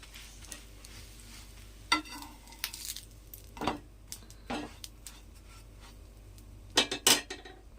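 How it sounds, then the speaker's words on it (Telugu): Bread slices fry in a pan for a bread omelette, a quiet, soft sizzle broken by several sharp clinks and scrapes of a utensil against the pan. "ఒక్కొక్క బ్రెడ్ పీసెస్ వేసేసి ఫ్రై చేసేసుకుందాం"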